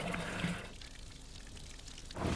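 A thick mixture of crude oil and dirt pours from a held bucket, a gurgling splash that fades briefly and then returns, fairly close and faint.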